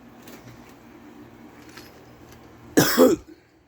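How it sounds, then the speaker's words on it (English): One loud, harsh cough bursts out near the end, close by, over a steady low mechanical hum and faint background noise. "That's a cough."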